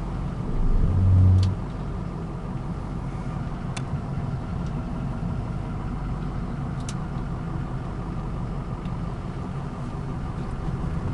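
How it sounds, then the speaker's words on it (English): A 2006 Ford F250 crew cab with a Power Stroke turbo diesel idles steadily, a low, even rumble holding for about eleven seconds, with a brief louder swell near the start and faint clicks above it. "Vehicle idles right where it's supposed to."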